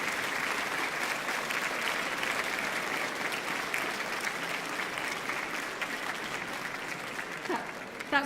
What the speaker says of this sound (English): Stand up and give them an amazing round of applause